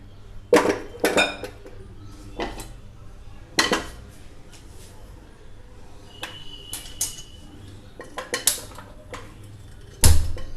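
Mutton being tipped into a pressure cooker by a gas stove, heard as scattered metallic clanks and scrapes of pot and utensils, a few sharp knocks in irregular bursts, one louder clatter near the end.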